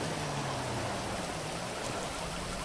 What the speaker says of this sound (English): Is it because of the rain?